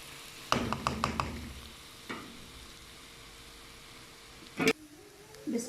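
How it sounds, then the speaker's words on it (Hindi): Macaroni stir-frying in a pan for a chatpati macaroni dish, with a few sharp spatula clinks and scrapes near the start, then a quieter stretch and another burst of stirring under a low sizzle. "इसकी अच्छी तरह करेंगे भुनाई।"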